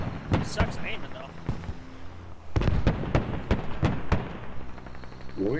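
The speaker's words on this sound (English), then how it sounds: "We're taking small arms fire," Small arms gunfire in the military video game Squad: sharp, loud cracks in quick bursts and scattered single shots, with a cluster of rapid reports in the second half, heard over players talking on voice chat.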